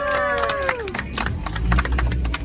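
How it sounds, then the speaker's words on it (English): Passengers aboard a Jungle Cruise riverboat at Disneyland clap and cheer together, a dense burst of applause and crowd noise following a fading tonal sweep, with the boat's engine rumbling underneath throughout. "give yourselves a round of applause"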